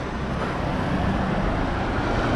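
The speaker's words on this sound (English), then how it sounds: "Well, there goes my bus." A city bus in Yilan, Taiwan rumbles close by with steady, loud engine and road noise that fills the whole moment without letting up.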